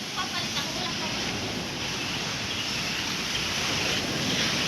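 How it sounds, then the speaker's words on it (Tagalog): Strong waves roll across Taal Lake, a steady broadband wash of surf mixed with gusty wind buffeting the microphone, continuous and fairly loud with no pauses. "Lakas ng alon."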